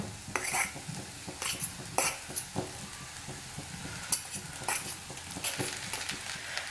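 Potatoes frying with turmeric for poori masala are stirred in a pan, giving repeated scraping spoon strokes against the metal over a soft, continuous sizzle.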